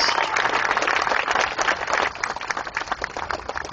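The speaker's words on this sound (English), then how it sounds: "a big round of applause for the folks at TDS" A crowd applauds warmly, dense clapping from many hands that stays strong for a couple of seconds before thinning slightly.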